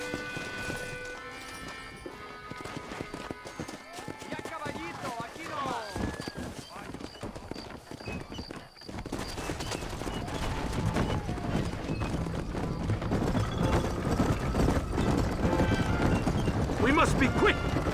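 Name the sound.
horse hooves galloping, from video game Red Dead Redemption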